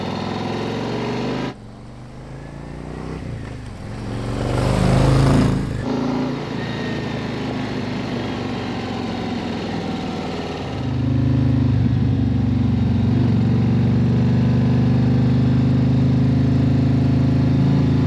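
A motorcycle engine on a 2023 Harley-Davidson Road Glide with a Khrome Werks exhaust rumbles steadily while riding, revving up partway through and then holding a loud, sustained drone as it cruises along.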